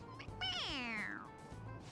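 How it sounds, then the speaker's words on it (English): A stuffed toy cat in Persona 5 Royal gives a single drawn-out meow when pressed on the head, high and falling in pitch, close and soft against a quiet background. "It meows when you press on its head."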